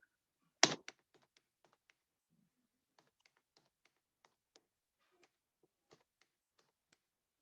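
A faulty computer keyboard gives one sharp, loud clack followed by a sparse series of soft, irregular key taps, with quiet gaps between them and no voices.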